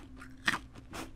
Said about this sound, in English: You definitely had to heard that crunch.